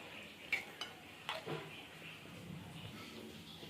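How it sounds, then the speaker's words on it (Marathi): Cooked onion bombil fish, a Maharashtrian dried Bombay duck dish, scraped from the pan onto a plate, with a few soft utensil clinks and scrapes early on over a quiet kitchen hush. "आता मी प्लेटमध्ये काढणार आहे।"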